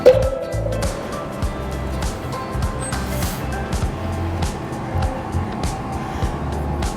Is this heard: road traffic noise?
yes